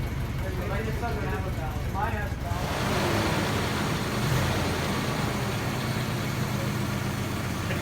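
A 1973 Triumph Stag engine idles steadily and fairly loud, a continuous low rumble that carries on underneath people talking nearby.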